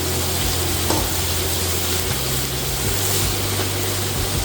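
Burger buns toasting on a hot griddle give a steady, close sizzle with low rumbling hum beneath, continuous and even throughout with no talking.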